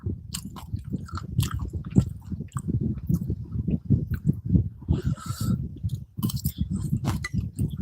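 Crunchy snack being chewed close up, a fast run of loud crisp bites and crunches lasting several seconds, with no talk.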